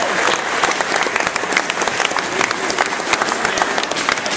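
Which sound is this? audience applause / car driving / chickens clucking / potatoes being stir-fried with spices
audience applause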